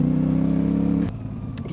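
CF Moto 450 MT adventure motorcycle engine with a twitchy throttle, a close steady revving drone that drops suddenly about a second in to a lower uneven idle.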